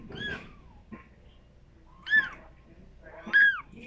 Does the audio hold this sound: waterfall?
no